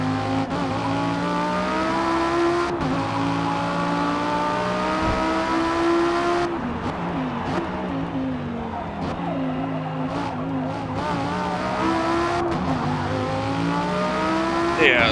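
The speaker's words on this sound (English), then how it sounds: "that's how you use your handbrake." A car slides under the handbrake in the Forza Motorsport racing game: engine tones rise and fall while a loud tire squeal and skid run through, with sharp shifts as the car swings.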